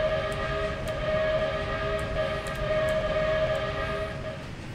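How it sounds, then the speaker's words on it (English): Train whistle in the Trainz railroad simulator game sounding a level-crossing signal, a steady sustained tone held throughout against a rumbling rail background, loud and continuous with no speech. "Our crossing is two long, one short, one long whistle."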